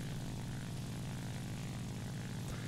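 Steady, droning roar of a Japanese WWII propeller fighter engine in War Thunder, a dense low throb with a constant buzz, continuous and unbroken with no talk.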